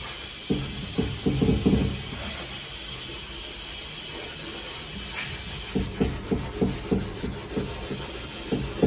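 An old item caked in cement is sanded by hand to restore it, giving rhythmic rasping strokes in two bursts near the start and again toward the end, with a quieter scraping stretch between.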